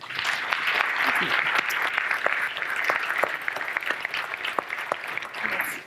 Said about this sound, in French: Bravo, applaudissez-les.